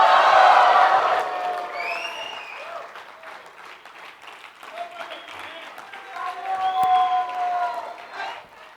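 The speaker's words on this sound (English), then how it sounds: "Louder, louder round of applause." Loud burst of applause with cheering at the start, fading to lighter clapping and crowd noise, then swelling again with whoops near the end.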